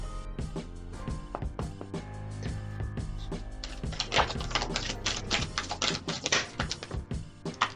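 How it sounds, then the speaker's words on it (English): Tarot cards shuffled by hand give a quick run of crisp, clicking riffles and flicks that grow busier toward the end, played over steady background music. "I'm going to shuffle again on camera so you can see the cards jump."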